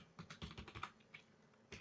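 Rapid typing on a computer keyboard while writing a Python print statement, a dense run of close, crisp key taps that pauses briefly and then resumes with a short burst, with no voices.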